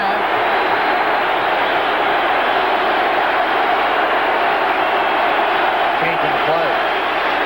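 Steady roar of a large college football stadium crowd at a 1985 Oklahoma Sooners vs Minnesota Golden Gophers game, a dense continuous wash of noise, loud and even throughout.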